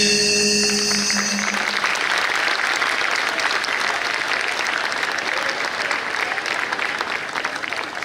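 An audience bursts into loud, sustained applause at a school annual gathering after a children's performance, dense clapping that rises quickly and continues evenly before slowly thinning.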